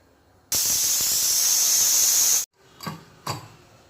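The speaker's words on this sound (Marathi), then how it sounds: "कुकरची हवा काढून घेतलेली आहे" A pressure cooker of dal and ambadi greens releases a loud, sharp burst of hissing steam for about two seconds, then stops abruptly, followed by two short clanks.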